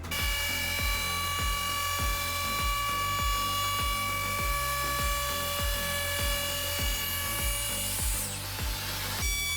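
A Festool OF 1400 router runs steadily at full speed with a loud, continuous high-pitched whine and a regular rhythmic thumping underneath, close and alone with no talk.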